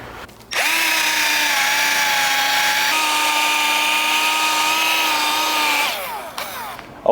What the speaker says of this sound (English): Just lightly sand it and then buff it